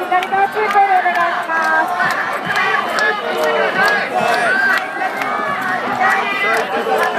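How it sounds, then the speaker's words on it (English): A massive crowd at an anti-nuclear protest in Tokyo fills the air with loud continuous shouting, chanting voices and dense babble all around, with footsteps and movement mixed into the roar. "I think it's probably seeing such a massive crowd of people here now on the sidewalk."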